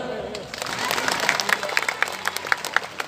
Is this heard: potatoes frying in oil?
no